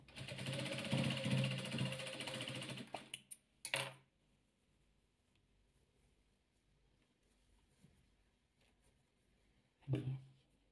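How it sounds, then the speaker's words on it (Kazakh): A sewing machine backstitches a seam on a soft fabric 3D children's ball: a fast, whirring run of stitching for about three seconds, then it stops, followed by a few sharp metallic clicks and clinks in a quiet room. "Міндетті түрде тіккен кезде закрепка бересіздер, сөгіліп кетпесін."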